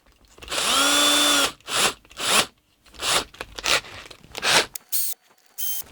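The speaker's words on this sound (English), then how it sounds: "I think I'm going to need the drill." Power drill opening up 3D printed holes, several short bursts of whirring and grinding separated by pauses, close and fairly loud.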